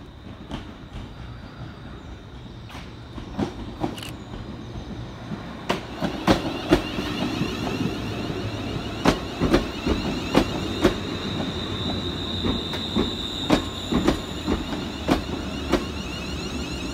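Scotrail class 380 electric train pulling into Pollokshields West station in Glasgow, a low rumbling approach followed by a run of sharp, rhythmic wheel clicks over rail joints growing louder and closer, with faint squealing.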